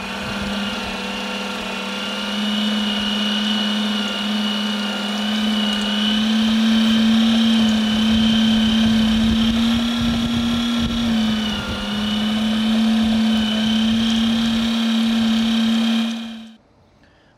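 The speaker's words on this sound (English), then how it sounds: "let's grind all this meat up and let's make some amazing hamburgers" Electric meat grinder working through brisket trimmings, a loud steady motor whine with a constant buzzing hum that runs continuously for the whole stretch before cutting off abruptly at the end.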